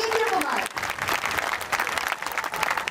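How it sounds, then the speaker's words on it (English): Audience applause at a school prize distribution ceremony, dense steady clapping from a crowd throughout, with faint voices mixed in. "Give a huge round of applause for our seniors, like Vijay Kumar."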